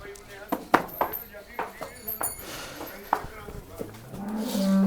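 A domestic buffalo on a farm lets out a low, drawn-out moo near the end, after scattered knocks and voices in the background.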